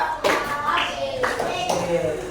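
Classroom of fifth-grade children clapping in short rhythmic counted bursts during a coding and artificial intelligence lesson, a teacher's voice leading over the claps.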